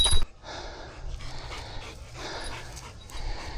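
A dog pants close by in quick, rhythmic breaths, the huffing rising and falling in bursts with no talking.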